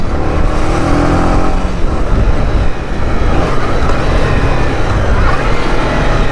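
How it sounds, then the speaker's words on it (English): Motorcycle engine running steadily while riding, a dense, continuous roar with wind rush and no breaks, loud and close throughout. "we're back on the motorcycle"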